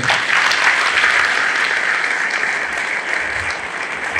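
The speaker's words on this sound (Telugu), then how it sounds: "ఒక నిమిషం పాటు ఆగకుండా అందరూ చప్పట్లు కొట్టాలి" A large crowd at a political gathering claps loudly and without pause, a dense, even roar of hands that holds steady throughout.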